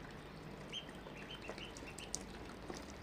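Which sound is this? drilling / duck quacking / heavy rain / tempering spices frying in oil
duck quacking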